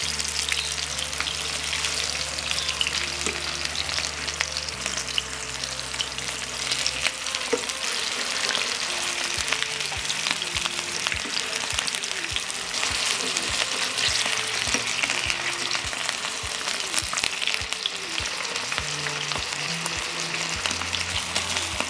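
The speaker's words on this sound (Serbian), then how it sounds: "Pržit ću ih 2 do 3 minuta sa jedne i sa druge strane, otprilike da budu 2/3 gotove." Meat patties sizzle and crackle steadily in a frying pan, a dense, close, continuous frying hiss that lasts the whole stretch with no voices.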